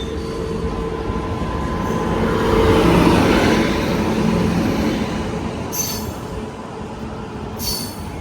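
A passenger train rolls past at a station with a loud, steady rumble of wheels on rails. Brief metallic wheel squeals break through the rumble, and no voices are heard.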